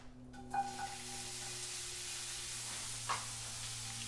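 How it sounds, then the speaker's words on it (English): Steady, close sizzling of steak frying in a hot pan, a continuous crackling hiss with a couple of brief louder pops. "can you hear that sizzle?"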